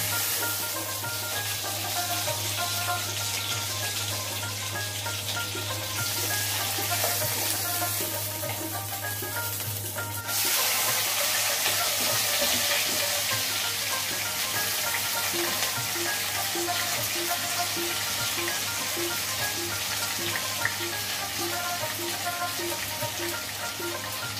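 Onions sizzle and fry steadily in a pan while being stirred to brown them, a continuous crackling hiss that runs alone throughout with a brief shift in texture partway.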